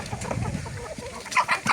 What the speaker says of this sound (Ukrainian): вже б'ються старі курки, не можуть поділити собі місце